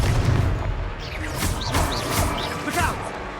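A fire spell blast in a wizarding video game: a heavy, booming burst at the start, then whooshing magical crackles and softer impacts. Voices talk throughout.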